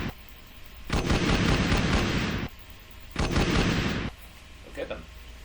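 Sustained bursts of gunfire in an Unreal Engine 5 rail shooter video game, two loud dense volleys of roughly one and a half seconds each, separated by a pause, with a brief faint voice near the end.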